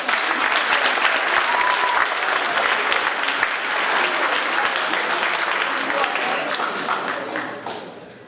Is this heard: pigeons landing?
no